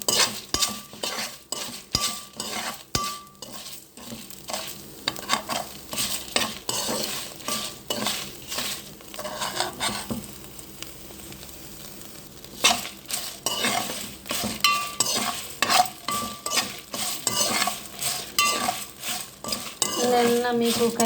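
Dry red chillies roasting in a pan for curry leaf powder, with a faint sizzle under busy clattering stirs and metal spoon scrapes against the pan, close and continuous, with no voices.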